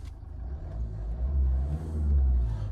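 Road and engine noise inside the cabin of an old car with poor insulation, a steady low droning rumble that swells toward the end, with no talk.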